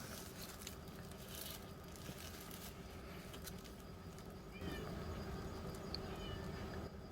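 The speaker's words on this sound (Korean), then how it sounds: "지금 문을 닫고 촬영을 하고 있는데 밖에서 저희 고양이들이 문 열으라고 야옹야옹 하고 있어요" Pet cats meow outside a closed door, faint and muffled beyond it, a few soft calls over a steady low room hum with a slight rise in background noise partway through.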